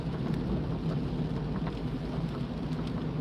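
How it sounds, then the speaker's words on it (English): Heavy rain pounding steadily on a car at night during a drive in the UK, a dense continuous roar with low rumbling road noise beneath, loud and unbroken throughout. "It's raining quite heavily."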